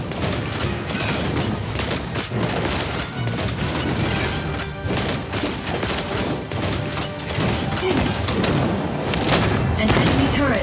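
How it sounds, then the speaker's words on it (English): Rapid booming explosions from a missile barrage in the mobile game Marvel Super War, part of a War Machine match, dense and continuous over game music and effects with announcer-style voice lines. "A missile barrage solves lots of problems."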